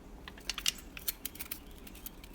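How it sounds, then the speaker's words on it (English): Scissors snip through a thin strip of aluminium can while making a homemade alcohol stove, giving a quick run of small, crisp metallic clicks and cuts at close range, fairly quiet. "take a pair of scissors, I'm just showing you what I did, and then cut that strip in two like that"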